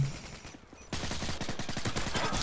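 Rapid automatic gunfire in the Modern Warfare 2 video game, a dense, loud stream of close shots starting abruptly about a second in and continuing steadily without talk.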